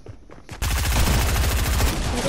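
Fortnite video game gunfire erupts suddenly after a quiet moment, a loud rapid automatic burst of shots that continues without a break to the end.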